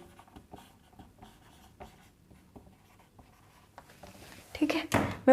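A teacher writes on a board in a classroom, producing short rhythmic taps and scratches of chalk or marker in quick strokes, followed by louder knocks and handling noise at the end.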